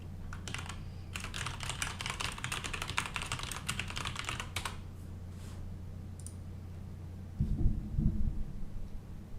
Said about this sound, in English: Keyboard ASMR stream right now.